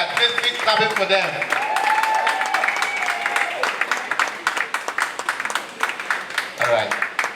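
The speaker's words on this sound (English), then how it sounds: "Please keep clapping for them" Clapping for a competing team rings through a hall at the University of Lagos plastic challenge finale, brisk crisp handclaps from many people under a talking voice and tonal sounds, thinning to scattered claps near the end.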